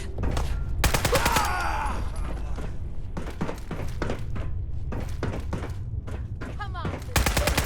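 Rapid bursts of gunfire from Fallout 4 combat: close, loud volleys and single shots fire in clusters throughout, separated by brief gaps, with game ambience underneath.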